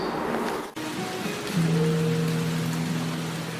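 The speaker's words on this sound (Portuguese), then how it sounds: "Presta atenção no som da chuva caindo" Steady rain pours down in an even, continuous hiss, with a soft acoustic guitar tone entering partway through and sustaining beneath the rainfall.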